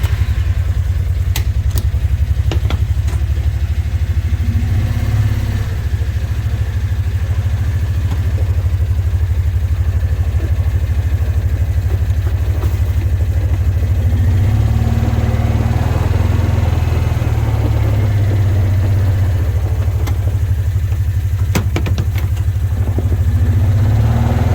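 A UTV engine runs steadily at a low, throbbing idle close by while the vehicle is loaded onto a trailer, with occasional clanks and no speech.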